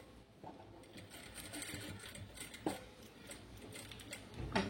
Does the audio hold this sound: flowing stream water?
no